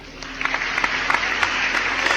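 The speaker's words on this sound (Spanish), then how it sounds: "recibimos también con un gran aplauso y con un apoyo sincero a Pedro Lupi" A studio audience on a Spanish TV programme applauds to welcome guest Pedro Lupi, a steady wash of clapping that stays fairly even and moderately loud with a few sharper individual claps standing out.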